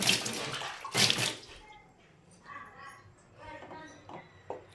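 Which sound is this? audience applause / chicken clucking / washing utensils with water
washing utensils with water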